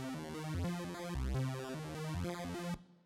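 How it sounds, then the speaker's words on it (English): Detuned VRC6 unison bass from an Action 52 chiptune in Famitracker, with channels spread in fine pitch so they rub together: buzzy, beating bass notes step through a short riff and then stop abruptly. "and you get a bass sound like this."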